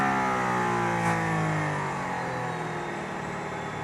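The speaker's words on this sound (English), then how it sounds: "I'm in a car with a Formula One engine, driving over a Formula One racetrack behind the Formula One safety car" Mercedes-AMG ONE hypercar with a Formula One engine accelerating out of a corner on the Barcelona race track, heard from inside the cabin as a loud, steady, high-pitched engine whine that rises over several seconds.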